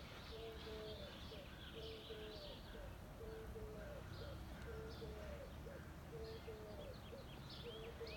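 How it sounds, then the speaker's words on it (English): Doves cooing in the morning: soft, low, repeated coos come in a steady rhythm from some distance, with faint chirps of other birds above and a quiet outdoor background. "Doves are out."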